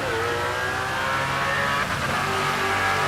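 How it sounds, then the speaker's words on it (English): A drag race car launches hard off the line at Rocky Mountain Race Week 2023, sounding like a pro stock car: loud, sustained engine roar with rising, shifting tones as it pulls away, heard alone. "That sounds like a NASCAR launch almost."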